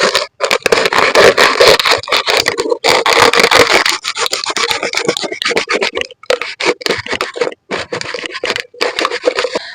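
A banana plant stem being cut by hand, giving repeated rough rasping, scraping strokes close up, with brief pauses between bursts and no talking.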